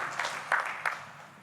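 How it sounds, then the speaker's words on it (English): Brief round of applause from an audience at a networking talk, a broad wash of clapping with a couple of sharper claps standing out, moderately close and steady throughout. "A little round of applause for Justin."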